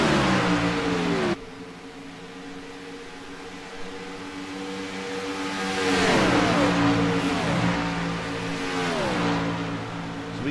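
Race cars in a World Cup final race between Carolina and the UK and Ireland, engines revving loudly with rising and falling pitch as cars pass close by, several overlapping, steady and continuous with no talk.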